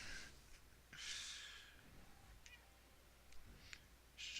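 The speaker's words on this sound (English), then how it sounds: "She's just a cat." A cat character in the video game Dragon Cliff gives short, faint meows and snorty breaths, a few brief calls spaced across a few seconds against a quiet background.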